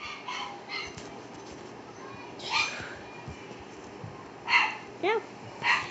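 A dog barks a few times in short, separate yelps over a steady background hum, sounding moderately distant in a game setting, with a voice also present.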